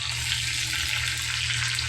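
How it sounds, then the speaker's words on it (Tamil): Fenugreek and garlic frying in hot oil, a steady close sizzle with fine crackling that stays even and unbroken for a couple of seconds. "வெந்தயம், பூண்டு போட்டு நான் ஃப்ரை பண்ணிகிட்ருக்கேன்"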